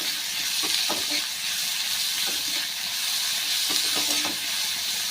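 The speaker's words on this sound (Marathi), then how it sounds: "आता कांदा आपण चांगला परतून घेऊया" Chopped onion sautéing in a pan for Marathi-style brinjal bharit, a steady close frying hiss with a few soft stirring knocks, no voices.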